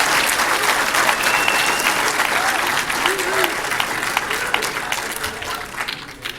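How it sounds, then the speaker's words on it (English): Applause fills a Toronto city council chamber, dense and continuous clapping from a crowded room that holds steady throughout, with a few voices faintly heard beneath it. "I guess we can applaud at this one, right?"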